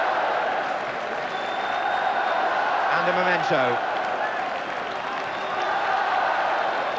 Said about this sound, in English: Every Scottish player getting a cheer